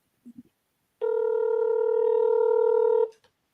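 Telephone dial tone while a call is being placed: a couple of short beeps, then a steady loud tone held for about two seconds before cutting off.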